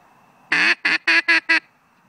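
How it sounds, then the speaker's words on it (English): A duck call blown in a hail call: five loud, harsh quacks in quick succession, the first longer, then four short evenly spaced blasts, close up with quiet before and after. "It's 5 repetitions of a quack, basically, but you have to actually get them out there, so it's a little bit harsher"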